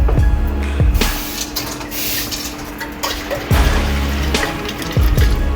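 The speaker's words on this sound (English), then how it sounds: "A little bit of water in there to get everything out." Water splashes into a pot of Jamaican brown stew chicken cooking with coconut milk and cabbage, in a few short bursts of pouring and sloshing with clinks against the pot, close and fairly loud.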